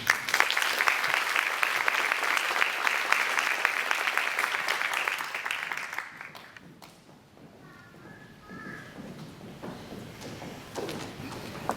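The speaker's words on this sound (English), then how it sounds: "So one more round of applause for you." Banquet audience at an FFA awards event applauding an award winner: dense, loud clapping for about six seconds that fades out into quieter room noise.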